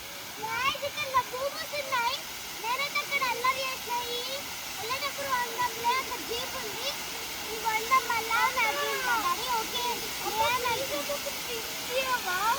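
A forest waterfall at a safari stop gives a steady broadband rush, while family members, including a child, talk over it throughout.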